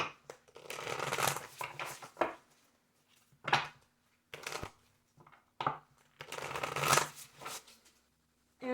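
Tarot cards are shuffled close by in repeated short riffles and slaps, with gaps of quiet between the bursts.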